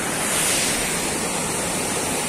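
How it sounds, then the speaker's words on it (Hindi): Water rushes steadily at Bhatinda waterfall in a close, loud, unbroken roar with no voices over it. "पानी की आवाज भी सुनाई दे रहा हो देख रहे कितना जबरदस्त"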